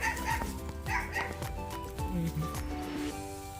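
A dog at a farmhouse in rural Thailand barking in short repeated bursts of yips and barks, fairly close, against a busy background with faint voices.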